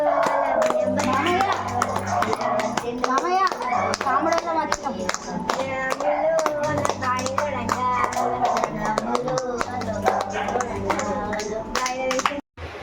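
People clap their hands during a Holi kamuda game, quick repeated claps over a steady drum-like beat and chanting voices, lively and close throughout.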